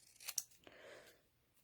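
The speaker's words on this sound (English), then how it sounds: "If you have a larger piece like this, you can use your kitchen scissors" Kitchen scissors slicing through card paper, with two quick sharp snips followed by a softer drawn-out cut, close and quiet.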